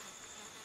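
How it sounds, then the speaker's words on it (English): Bees buzzing near a beehive in the game Ancestors: The Humankind Odyssey, a faint steady insect drone with a constant high whine over soft jungle ambience, no voices. "there's definitely a beehive around. I can hear the bees."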